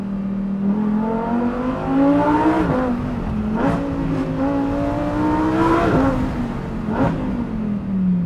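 Lamborghini Huracan STO with a dual-clutch gearbox accelerating hard on a race track, engine revving up in loud repeated climbs with quick shift breaks between them, close and continuous.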